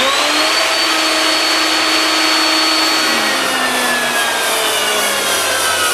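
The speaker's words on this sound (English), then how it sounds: "I wind up the cutter a whisker more to make the next test cut." A wood router fitted with a drawer corner lock cutter runs through a test cut, giving a loud, steady, high whine with grinding cutting noise throughout, close by and alone.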